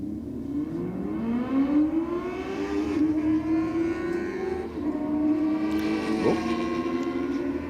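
A 650cc street motorcycle launching down the drag strip at Sydney Dragway on a night race meet, its engine note climbing in a loud, rising whine through the gears with a brief dip between shifts.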